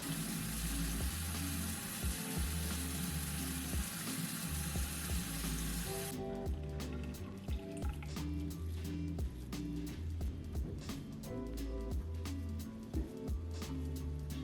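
Tap water runs and splashes in a sink while a face mask is washed off, steady at first, then broken into intermittent splashes and trickles as hands move through the stream, over a faint background of music.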